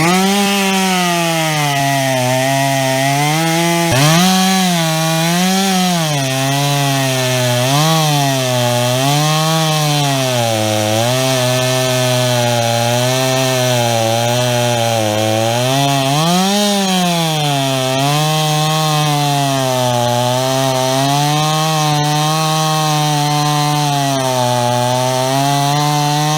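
A repaired STIHL chainsaw runs steadily and loudly up close, its engine pitch rising and falling as the throttle is worked, with no talking over it.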